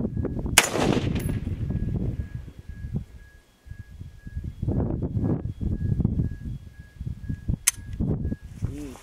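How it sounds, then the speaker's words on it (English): Two sharp, loud Ruger Mini-14 rifle shots fired on a range with handloaded ammunition at a 100-yard target, each a crisp crack spaced several seconds apart, with quiet handling and rustling noise around them. "That was three shots on the right hand side."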